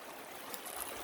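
Fast, deep stream water rushing steadily, a broad continuous wash close by with no talk over it.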